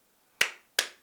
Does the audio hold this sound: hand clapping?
yes